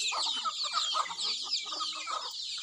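Several chickens on a rural farm cluck and chatter close by in a busy, overlapping stream of short calls.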